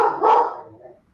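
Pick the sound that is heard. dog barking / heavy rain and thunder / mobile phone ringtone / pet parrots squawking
dog barking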